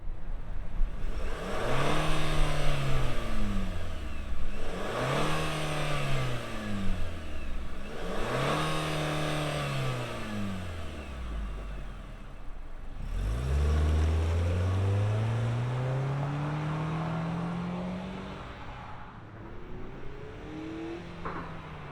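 A 2025 Nissan Kicks SR with all-wheel drive fires up: its engine rises and falls in three steady rev sweeps, then pulls away in one long climbing acceleration. The engine is close and fairly loud, with no talking.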